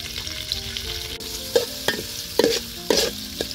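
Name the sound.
chopped onions frying with garam masala in pot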